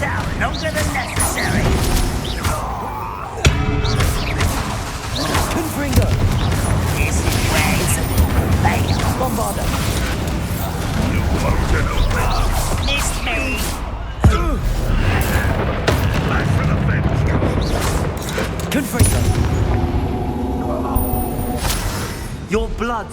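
Confringo fire spells blast repeatedly in the Hogwarts Legacy video game, punchy booms and crashes over a dense bed of combat effects and music, with a character's voice calling out among the sharp impacts.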